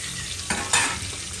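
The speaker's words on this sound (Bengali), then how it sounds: "তো এবারে চিংড়িটাও এরকমভাবে ভেজে নেব আমি" Shrimp coated in turmeric and salt sizzles softly in a pan, with a couple of brief louder bursts as the pieces are stirred; quiet and close, no voices.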